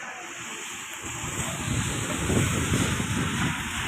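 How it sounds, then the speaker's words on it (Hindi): Rainwater flows and rushes along in Madina during a downpour, a steady broad wash of water that swells slightly midway, with wind buffeting the microphone and no speech. "ये देखें जी, पानी जा रहा है माशाअल्लाह।"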